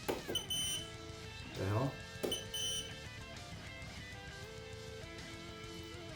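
A handheld voltage checker gives a couple of short, shrill beep bursts during indoor wall wiring work, with someone talking over and around them.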